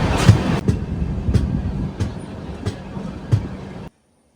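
Samaleswari Express, the Jagdalpur–Howrah passenger train, rolling along the rails near Rayagada station, with a steady rumble broken by periodic sharp clacks of wheels over rail joints, close and fairly loud, then cutting off abruptly.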